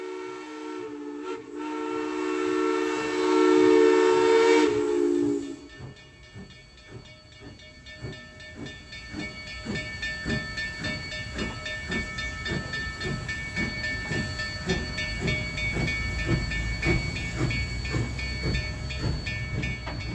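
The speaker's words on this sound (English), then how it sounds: "train 261 departs from the Durango Depot on time at" A narrow gauge steam train departs the Durango Depot on the Durango and Silverton line. A loud, sustained whistle blast gives way to rhythmic exhaust chuffs and hiss that build steadily as it pulls away.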